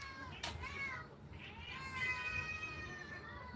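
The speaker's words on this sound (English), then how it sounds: "Can you show us the cat in the background?" A cat meows in the background of a home livestream, giving a drawn-out, wavering call with one sharp onset, moderately close and alone without talk.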